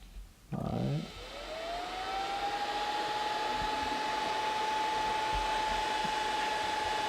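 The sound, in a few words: cooling fans of a homemade lab bench power supply running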